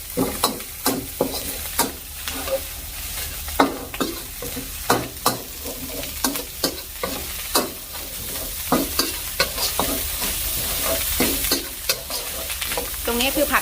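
Fried rice with naem, a Thai fermented pork, being stir-fried dry in a pan: a steady sizzle runs under repeated sharp scrapes and taps of a spatula, close and fairly loud, with no talking.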